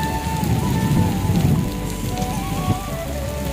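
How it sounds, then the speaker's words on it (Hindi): Steady heavy rain pours down, a dense continuous patter with a low rumbling wash beneath it and some faint tonal sounds drifting over the top. "यहाँ दूर दूर तक जो है बारिश बहुत ज़्यादा हो रही है"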